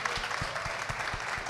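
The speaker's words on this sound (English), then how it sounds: "Big round of applause for Dave Mamano, our host tonight." Live podcast audience applauding the host, a steady wash of clapping with a few louder individual claps standing out.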